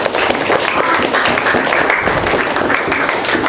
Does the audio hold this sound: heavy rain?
no